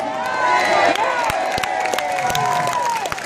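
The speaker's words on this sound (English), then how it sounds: "Give Tracy a massive round of applause." A crowd at a Whitehall, London rally cheers and applauds loudly, voices and shouts blending over scattered claps, with a sustained tonal whoop or whistle running through the noisy mass.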